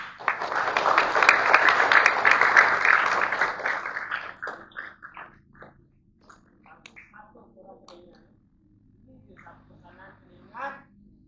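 A group at a night silat gathering in a Malaysian village claps loudly for about four seconds in a dense burst, then it thins to a few scattered claps and speech.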